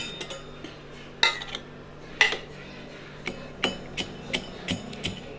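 Sharp, irregular knocks of a pestle crushing almonds and cashews in a mortar, close by, with several loud strikes followed by a run of lighter taps.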